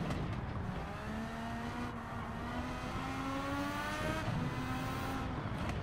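A McLaren MP4/4 Formula race car at the Nurburgring in Gran Turismo 7 screams at high revs, its pitch climbing through the gears with brief dips at each shift, loud and continuous with no talking.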